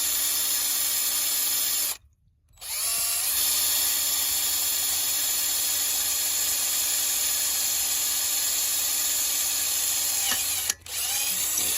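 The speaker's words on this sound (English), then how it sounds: "we should be able to drill this aluminum out carefully all the way through" A power drill whines loudly and continuously, grinding through aluminum on a motorcycle skid plate, briefly stopping once and pausing again near the end.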